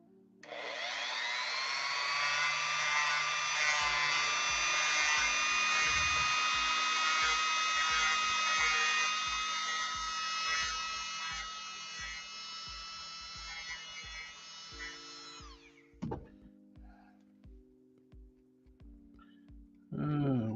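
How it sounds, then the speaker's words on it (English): A Dremel rotary tool whines at high speed for about fifteen seconds, loud and steady, then spins down and stops, leaving a few quiet clicks and handling noises. "One tool I highly recommend if you're going to be customizing, Dremel tool."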